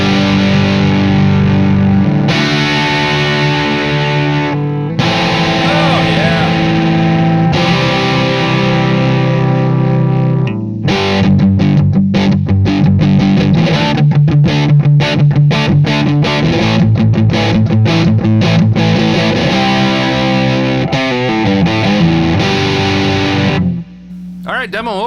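Electric guitar through an ADHD V2 distortion pedal, heavily distorted, playing sustained chords and then choppy, fast-picked riffs, loud and thick, with a short pause between phrases.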